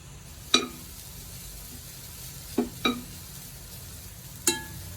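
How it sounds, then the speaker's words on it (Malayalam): One cup of grated coconut dry-roasts in a pan, a soft continuous sizzle broken by four sharp scraping taps of a spoon or spatula against the pan. "ഒരു കപ്പ് തേങ്ങ എടുത്തിട്ടുണ്ട് അതൊന്ന് വറക്കാനിടാം"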